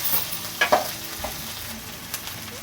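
Ginger curry mixture being stirred in a pan, giving a soft, steady scraping with a few brief louder clinks near the start, faint and without any talk.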